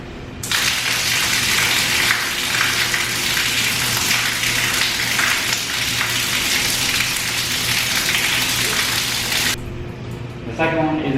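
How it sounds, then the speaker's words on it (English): A waterfall shower in a cruise ship's rainforest room pours in a steady, loud, hissing rush for about nine seconds, then cuts off abruptly, leaving quiet room tone and a brief voice. "But the first one was a waterfall,"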